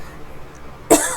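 A single sharp, close cough breaks out near the end of a quiet stretch, followed by a short throat sound.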